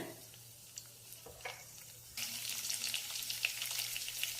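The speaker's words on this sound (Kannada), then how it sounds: "ಆ ಬೆಳ್ಳುಳ್ಳಿ ಘಮ ಬರೋವರೆಗೂ ಫ್ರೈ ಮಾಡ್ಕೊಳ್ಳಿ" Crushed garlic and two or three dried red chillies frying in oil in a pan, a quiet start that jumps about halfway through into a steady, close sizzle with faint stirring clinks, no voices.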